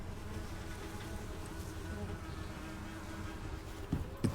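Bees buzz continuously in the survival game Icarus, a low, even, fairly quiet drone that runs the whole time, with a couple of small clicks near the end.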